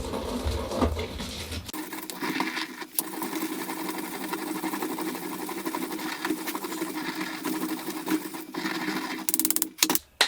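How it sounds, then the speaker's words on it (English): Grinding worked in a counterclockwise motion produces a continuous, close rasping churn with a fast rhythmic patter, briefly pausing and ending in a few sharp knocks. "Now I'm grinding counterclockwise because I want to repel things."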